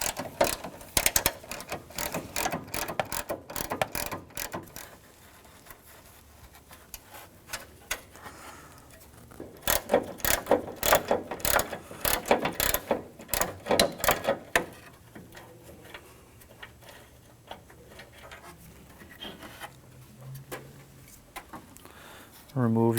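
A ratchet backs out 8mm bolts on the hood latch of a 1997-2003 Ford F-150, giving bursts of rapid clicking separated by quieter pauses, close to the microphone.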